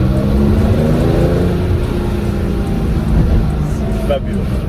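A Porsche 911 2.4 S engine runs in a loud, sustained drone from inside the car, with the engine note rising and holding throughout while someone talks over it.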